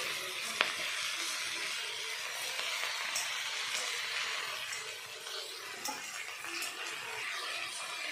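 Washed betho greens sizzling in a hot frying pan: a steady, moderately quiet crackling hiss with fine popping spread evenly across the whole stretch.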